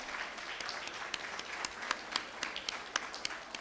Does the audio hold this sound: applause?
yes